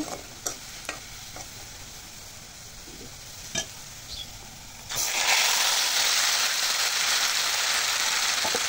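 Raw chicken meat hits browned onions in a hot pan, the quiet background of stirring clinks giving way to a sudden, loud, steady sizzle that continues to the end.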